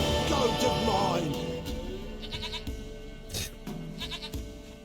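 A goat in The Witcher 3 bleats close by in a few wavering calls, followed by quieter game sounds and short clicks.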